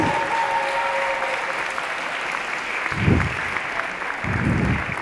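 An audience claps at the opening of an international debate tournament, a sustained wash of applause that swells twice toward the end.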